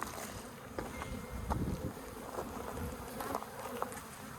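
Honey bee colony nested inside a bird house, buzzing in a steady low hum with scattered sharper passes of individual bees close by, no talking over it.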